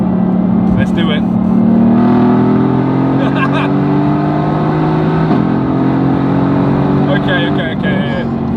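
A Temu-built Mercedes-AMG GT engine revs hard under full throttle, its loud, sustained roar climbing in pitch and holding close, with a brief dip before pushing on again.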